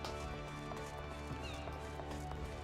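Hooves clip-clop at a riding pace in Final Fantasy XIV, a steady rhythmic beat set in a dense layer of game music and effects that carries through the whole moment.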